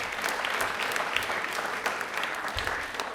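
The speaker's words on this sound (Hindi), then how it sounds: "तालियां प्लीज एक बार जोरदार हो जाए।" A studio audience at a televised quiz show claps steadily, a moderately loud, even spread of many hands that carries on for a few seconds without talk.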